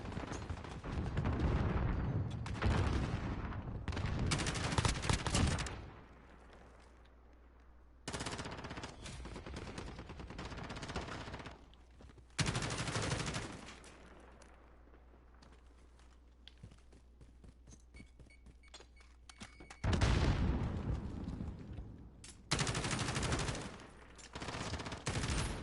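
Gunfire in Call of Duty: Modern Warfare comes in several loud bursts of rapid automatic fire, separated by quieter gaps of faint background sound.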